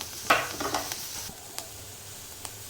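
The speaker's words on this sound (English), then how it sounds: "Now I've added the capsicum. I'll not let it cook, I'll just saute it a little bit" Capsicum being sautéed in a pan for pink sauce pasta, a brief burst of sizzle as it hits the hot pan, then soft stirring and a few light utensil taps, close and quiet.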